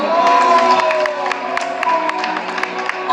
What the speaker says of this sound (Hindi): इनके लिए एक आप लोग ताली जरूर बजाइए